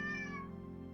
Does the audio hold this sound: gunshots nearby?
no